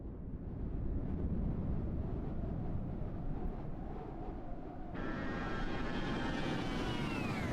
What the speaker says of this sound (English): I do like that flyby.